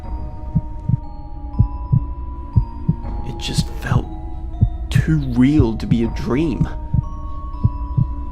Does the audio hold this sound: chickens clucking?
no